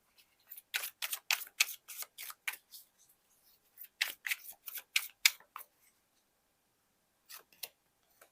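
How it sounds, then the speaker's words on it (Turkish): Tarot cards are handled and drawn from a deck, making crisp, papery snaps in two quick bursts followed by a couple of isolated flicks. The snaps are close and clear against silence, with no talk. "Hemen şu kılıç dörtlüsüne de bir kart alalım."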